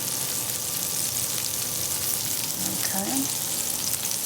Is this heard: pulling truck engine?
no